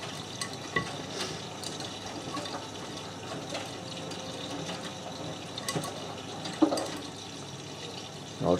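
A Miele W562 washing machine filling with water for the final rinse on a woollens 40ºc cycle, a steady rushing, splashing flow heard close up with faint clunks and no talking.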